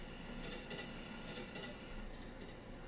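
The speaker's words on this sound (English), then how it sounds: "Is that a train?" Train passing in the Teke Teke horror video game at night, a faint steady rumble with soft rhythmic wheel clacks over the rails.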